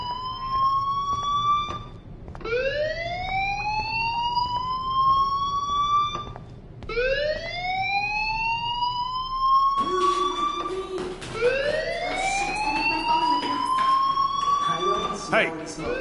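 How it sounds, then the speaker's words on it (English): A fire alarm in the Life Is Strange video game wails in repeated rising sweeps, each climbing and then cutting off, loud and steady, with a second overlapping siren tone joining in later. "do you hear that fire alarm? That means you should be outside."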